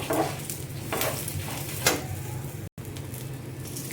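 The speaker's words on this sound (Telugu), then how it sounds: "దీంట్లోనే మన చేతికి సరిపడా చింతపండు కూడా వేసేసి కొంచెం ఫ్రై చేద్దామండి." Tamarind and curry leaves fry in a pan, giving a steady close sizzle broken by a few soft stirring scrapes, with no talk over it.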